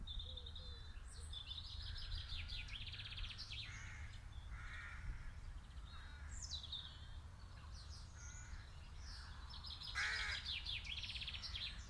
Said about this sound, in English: And as you move down, you hear birdsong.